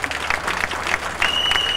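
Guests applaud at a civil wedding ceremony, with brisk clapping from a modest crowd for a couple of seconds and a thin steady tone running through the second half.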